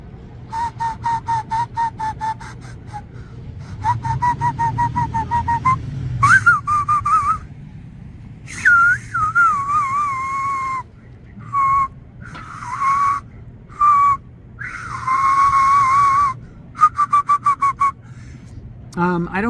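Loud fingerless whistle made with the upper lip, a run of sustained bright tones in short bursts and longer held notes, some sliding and bending in pitch, with breaths and gaps between phrases.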